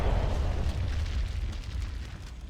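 Rumbling artillery bombardment in the real-time strategy game Ground Control, a continuous heavy low roar of overlapping explosions with no distinct gaps, loud and sustained throughout.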